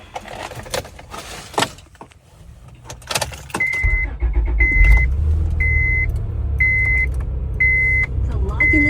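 A car engine idling to warm up on a frosted morning, a steady low rumble close by after some handling noises and clicks, with a repeating high electronic chime sounding at regular intervals.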